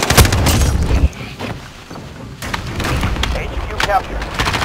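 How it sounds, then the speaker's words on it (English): Loud boom from an allied cruise missile strike in the video game Modern Warfare (2019), a heavy low rumble opening the clip, then gunfire-like bursts and scattered game sounds with an in-game voice over them. "Allied cruise missile launched."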